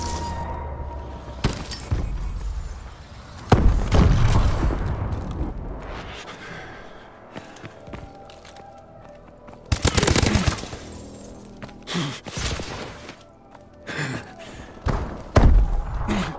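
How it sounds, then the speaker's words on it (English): Missile strikes exploding in the video game Advanced Warfare, several loud heavy booms and crashes spaced irregularly, with gunfire-like bursts and debris clatter between them. "Friendly missile strikes incoming."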